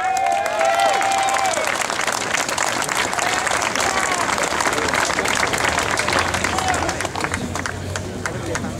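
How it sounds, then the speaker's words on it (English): Audience applause at a veterans' monument gathering for Oscar Tassoni, Grand Chief of the Rhode Island 40 and 8, with steady clapping and crowd noise throughout, some cheering and voices mixed in. "Round of applause for Oscar."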